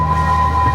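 An amusement park tour train at Blackpool Pleasure Beach squeaks along its rails on opening day, giving a steady, thin metallic squeal that holds level for a brief moment with a low rumble underneath.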